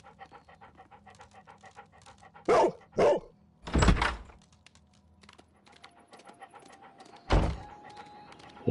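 A dog in the Sherlock Holmes: Crimes & Punishments video game gives a few loud, close barks in quick succession, then another single bark later, over soft panting and a quiet background.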